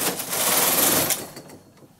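A Brother double bed knitting machine carriage sweeps across while casting on in a zigzag, a loud rattling rush that fades out over about a second.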